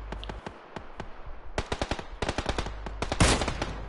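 Rapid bursts of automatic gunfire crackle in a PUBG three-man squad match, sharp repeated shots in uneven clusters with one louder close blast near the end.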